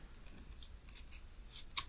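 A few short, crisp snips of scissors cutting through tape, close and fairly quiet, with small pauses between the cuts.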